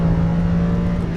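A Lamborghini Huracan LP610-4 engine drones steadily on a race track, a loud sustained tone close to the car with no talk over it.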